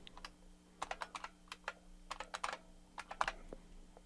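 A computer keyboard is tapped in quick irregular bursts as a root password is typed, light clicky keystrokes close by over a faint hum.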